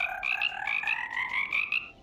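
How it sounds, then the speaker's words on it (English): Frogs croak in a steady run of short, rhythmic pulses in the WorldBox video game, a repeated chorus of clear, fairly loud calls heard alone with no talk. "Some frogs."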